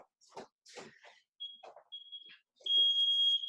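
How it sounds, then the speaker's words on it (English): A timer in a Brazilian jiu-jitsu adult class sounds a loud, steady electronic beep tone near the end, after short bits of talk and a few brief chirps. "I'm going to go ahead and set the timer so Shane can get his reps in, right?"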